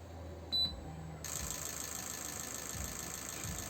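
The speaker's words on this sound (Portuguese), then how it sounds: "Aqui ele vai simular o funcionamento do motor. É como se o motor estivesse girando desde a lenta até uma certa rotação." A fuel injector test bench simulates a Suzuki SRAD 1000 engine running from idle upward, giving a steady mechanical buzz with rapid clicking injector pulses that steps up abruptly partway through, preceded by a brief beep, with no talking.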